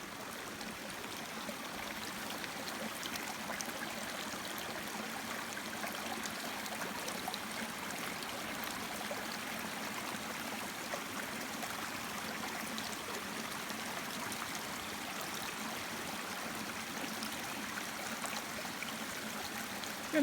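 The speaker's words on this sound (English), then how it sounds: "Oh, and the creek is really running nicely today." Creek water running steadily over rocks, a continuous soft babble and trickle heard alone at close range, with no talking.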